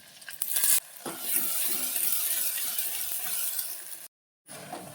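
Masala roasting in a pan while being stirred for a light dahi kadhi: a steady close sizzle with scraping spoon clicks, a sharp burst near the start, and a brief silent break near the end.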